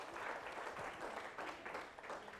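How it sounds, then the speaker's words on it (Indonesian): Audience applause for a band member at an Indonesian stage show, a soft, distant patter of many hands clapping that stays fairly even throughout, faint and somewhat muffled. "tepuk tangan buat anak band"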